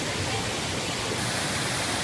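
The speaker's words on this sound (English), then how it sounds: "I have no idea how well you can hear me because there's waterfalls everywhere" Waterfalls pour in a steady, dense roar of rushing water that stays constant and loud throughout, with no pauses or other sounds.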